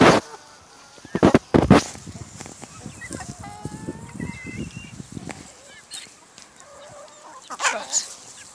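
Chickens cluck in short bursts on a farm, with scattered bird-like calls and rustling; a few louder sharp sounds punctuate the soft, close clucking.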